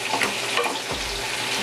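Chicken with onion sizzles and is stirred in a hot pan for green chicken hariyali, a loud continuous frying hiss with scraping turns of the spoon.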